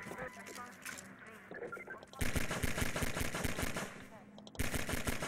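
Rapid automatic gunfire in the video game Half-Life 2 comes in loud, dense bursts. A brief pause falls between the two main volleys.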